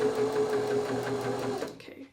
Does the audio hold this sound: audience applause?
no